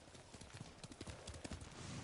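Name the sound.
horse clip-clopping in the video game Ghost of Tsushima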